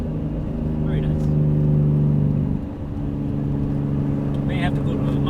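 A 1998 Nissan R34 GT-R engine drones loud and steady from inside the cabin, dipping briefly as the throttle lifts, with a short airy blow-off hiss near the end; people talk over it.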